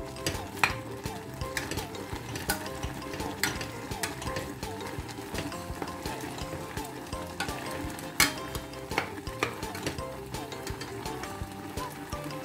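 A pot of eggplant curry being stirred, the spoon knocking the pot in a steady irregular rhythm over a soft sizzle and bubbling, close by, with a voice talking quietly in the background.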